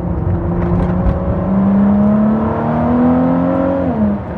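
A Ford GT fitted with a Quicksilver Inconel exhaust drives past. Its engine gives a steady, loud drone that rises slowly in pitch as it pulls, then eases off near the end, with no voices over it.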